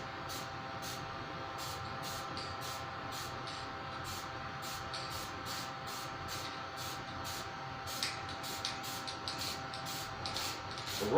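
Spray painting parts for a John Deere 111 Jr pulling tractor in a shop, a steady hiss of spray with a regular series of short bursts, close and fairly even throughout.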